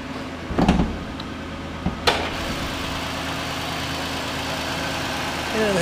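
A 2009 Toyota Venza's 3.5-liter V6 idles with a steady, smooth mid-low hum, broken early by a couple of sharp knocks and clunks, continuing evenly at moderate volume.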